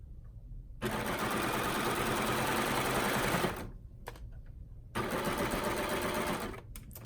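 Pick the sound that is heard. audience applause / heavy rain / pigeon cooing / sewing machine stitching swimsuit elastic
sewing machine stitching swimsuit elastic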